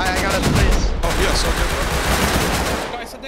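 Dense, continuous gunfire from a shotgun trap in the survival game Rust, loud and close throughout, with excited voices talking over the shooting.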